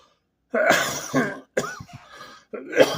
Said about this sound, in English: Excuse me for my coughing